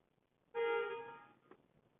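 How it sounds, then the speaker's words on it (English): A single car horn honks once in an airport parking lot, a clear tone held for about a second that fades out, with faint quiet around it. "Someone honked."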